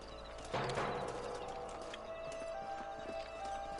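Horses' hooves clip-clop in a video game as riders dismount, with steady hoofbeats against an outdoor background and a brief whinny-like sound.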